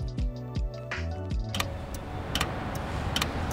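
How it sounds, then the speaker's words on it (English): Popping electrical crackle of cells being electrocuted in a CRISPR gene-editing animation. Rhythmic low ticking gives way to a hissy wash dotted with sharp, separate pops. "That's the sound of the cells being electrocuted, allowing the CRISPR solution to be inserted."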